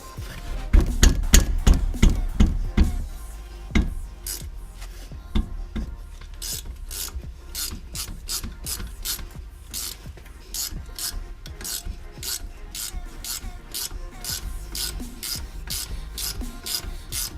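Brake caliper bolts loosened with a ratchet on the front brakes of a 2006 Toyota Highlander Hybrid: a run of close, rapid metallic clicks, heavier knocks at first, then a long even ratcheting with no talking.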